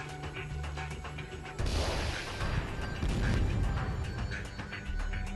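Cannon fire in the real-time strategy game Warzone 2100: after a quieter stretch, a heavy run of booming blasts and crashing impacts sets in and carries on loudly, dense and overlapping, to the end.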